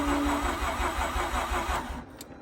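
The starter of a Mazda RX8 that sat idle for 2.5 years cranks the engine in a fast, even, pulsing whir close by, loud, then cuts off without the engine catching.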